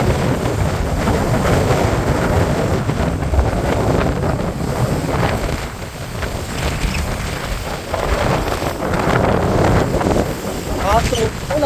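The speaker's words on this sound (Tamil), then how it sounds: "காற்று அவ்வளோ வேகம் அடிக்கிறாங்க." Strong gale-force wind roars into the microphone along a flooded shore at Colombuthurai, Jaffna, during a cyclone over rough sea, a continuous loud buffeting with the wash of waves beneath it and no pauses.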